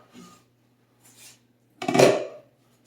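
A lid lifts off a pot of hamburger soup with a couple of faint metal taps and then a short, louder scraping clatter close by.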